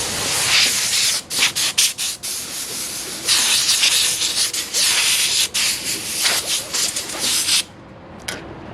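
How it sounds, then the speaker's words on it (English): An air compressor blowgun blasts dust out of a tractor radiator, loud hissing air bursts repeatedly starting and stopping in an irregular rhythm before cutting off near the end. "what we do with our air compressor and our blowgun"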